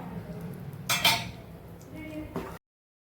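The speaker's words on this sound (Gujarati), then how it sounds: "ઘી સાથે આપણે લોટને મિક્સ કરી દઈશું" Flour being stirred into ghee in a pan over low heat for sukhdi gives soft scraping and a few clinks of a metal spoon against the pan, fairly quiet, then cuts off abruptly.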